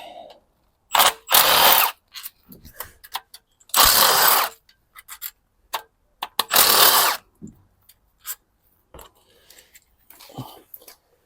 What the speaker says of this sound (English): now I can remove the rest of the bolts for the cover from underneath